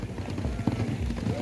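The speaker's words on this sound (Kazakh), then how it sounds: "Аттар бірінші айналымда аяқтап келеді" Racehorses gallop in a long-distance baige race at Lepsy village, Alakol district, Zhetysu region, Kazakhstan, with a steady thudding clip-clop of hooves under loud commentary and crowd noise.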